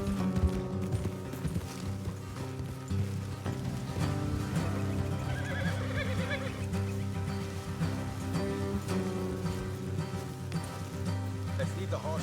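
Horses in the Red Dead Redemption 2 video game clip-clopping along with neighs and whinnies over a steady bed of rain and game music, continuous and close.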